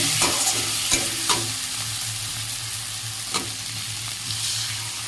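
An egg curry bubbles and sizzles in a pan as water goes in, a steady close hiss broken by a few sharp clicks and scrapes of a spoon, with no talking.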